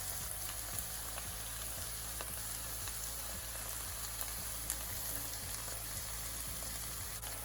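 Green chili sauce and dark soy sauce sizzle in a hot pan for baby corn and baby potato Manchurian, a faint, even crackling hiss with tiny scattered pops and no one talking.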